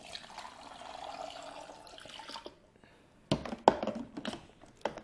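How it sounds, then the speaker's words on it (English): Water from a cup is poured into the chamber of a Conair Cuisinart BFM 1000 baby food maker, a soft near trickle followed by a few louder drips and splashes, with no talking. "we're going to pour it right into the chamber"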